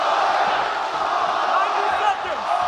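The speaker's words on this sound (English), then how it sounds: "Crowd getting behind Holloway here late in round 2." Arena crowd at a UFC bout between Max Holloway and Calvin Kattar, late in round two, roaring and cheering in a sustained, dense wall of noise with scattered shouts rising above it.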